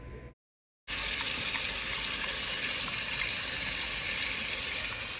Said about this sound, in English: I just rinsed the shrimp off and I took the tails off of them